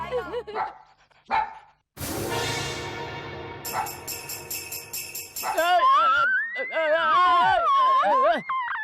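A dog gives a few short barks early on, then voices and background music from a Hindi-dubbed film scene take over.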